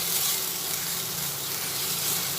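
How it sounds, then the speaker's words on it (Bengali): Masala with fresh cream stirred and sautéed in a pan for an egg curry, producing a dense, steady close sizzle with soft stirring scrapes. "এটা ভালোভাবে নাড়াচাড়া করে কষিয়ে নিচ্ছি"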